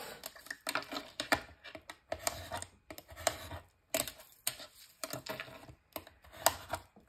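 A craft cutter knife slices through paper during scrapbook album making, in repeated short bursts of close scraping cuts separated by brief pauses, with no talking.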